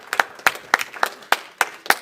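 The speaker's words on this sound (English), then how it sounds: "You deserve another round of applause." Scattered claps from an audience at a city council meeting in Jackson, a handful of distinct, sharp hand claps at an uneven pace, fairly close and moderately loud, with no voices over them.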